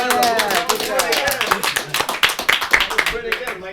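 An audience at a clown's magic show claps in a quick, close burst of scattered applause, with voices heard over the start.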